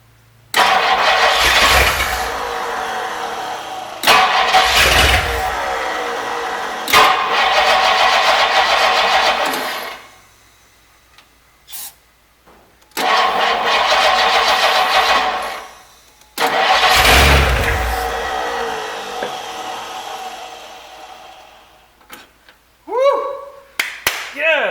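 A 1962 Thunderbird that sat unused for 46 years cranks and fires, its engine roaring loudly in several bursts, revving, dying and catching again, with cheering voices and short pauses between runs.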